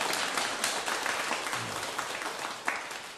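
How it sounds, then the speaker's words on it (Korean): An audience at a Buddhist lecture class claps together for a couple celebrating their 23rd wedding anniversary, a steady, fairly loud burst of applause filling the whole stretch. "박수 한번 부탁드릴게요"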